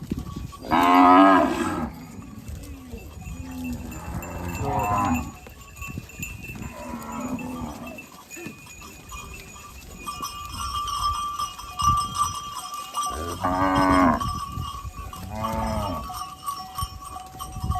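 Cows moo loudly several times, long drawn-out calls close by in farm fields, separated by quieter stretches of outdoor ambience with faint bleats and bells, as a herd returns to a herder's whistle.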